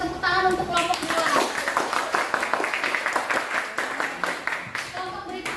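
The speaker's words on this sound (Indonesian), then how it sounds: "Bisa kasih tepuk tangan untuk kelompok 2" A classroom audience claps for a student group during teacher-training presentations, with dense, lively hand claps running steadily through the clip and some voices in the background.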